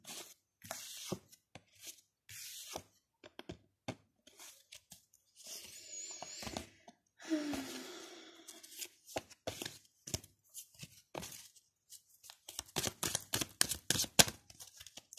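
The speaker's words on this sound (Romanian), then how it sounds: "O să pun cărțile prin setul de cărți, mai amestec o dată." Tarot cards get shuffled in bursts of crisp riffling and flicking, close and fairly quiet, the rapid flutter growing denser toward the end.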